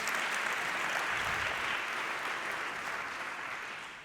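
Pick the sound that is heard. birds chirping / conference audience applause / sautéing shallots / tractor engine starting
conference audience applause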